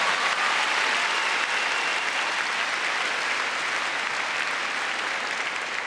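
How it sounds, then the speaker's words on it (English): Large arena crowd applauding at the Crufts international agility competition final, a dense, continuous roar of clapping sustained at even loudness throughout. "give a great big round of applause for Scotland and Dane Redford."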